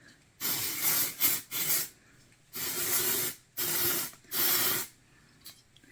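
Dry shampoo sprays onto hair from an aerosol can in several bursts of loud, close hissing, some short and some about a second long, with brief silent gaps between them.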